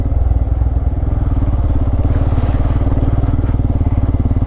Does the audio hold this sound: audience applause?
no